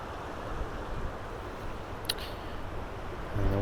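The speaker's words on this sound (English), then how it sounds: "And the wind is kicking." Wind gusting steadily along a river, a soft broadband rush with a faint brief rustle partway through and a small bump near the end.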